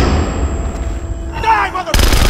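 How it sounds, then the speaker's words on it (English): A flashbang grenade going off in the stealth shooter Splinter Cell Conviction, a loud sharp blast with ringing noise that cuts in near the end, following a stretch of dense in-game ambience and scattered effects. "I'm throwing a flashbang."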